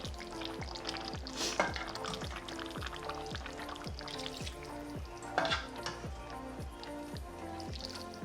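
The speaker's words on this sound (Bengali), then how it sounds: "আমি এখন আর একটু গরম পানি দেবো" Hot water is poured into a pot of simmering beef curry with tomatoes, producing a soft steady pour and bubbling sizzle with occasional stirring clinks, fairly quiet and close.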